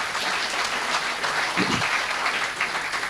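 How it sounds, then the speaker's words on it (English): An audience at a college motivational talk applauds in a dense, continuous wash of clapping lasting about three seconds, with no talk over it. "So please give yourself a big round of applause"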